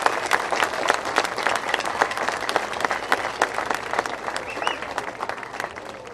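An outdoor audience at a Revere Beach sand sculpting festival awards presentation claps for volunteer board members, a dense, steady round of applause lasting several seconds that tapers slightly toward the end.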